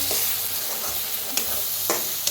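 Ground coconut roasting dry in a pan for a spicy village-style chicken masala, a steady soft hiss broken by a few sharp spatula scrapes and stirs. No one speaks.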